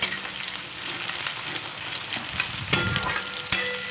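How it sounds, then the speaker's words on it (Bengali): Onions frying in oil in a pan for a Bengali mutton curry, a steady close sizzle broken by scraping stirs and two sharp clinks of the spatula, with no voices. "পেঁয়াজটিকে ভালো করে নাড়াচাড়া করে নিতে হবে"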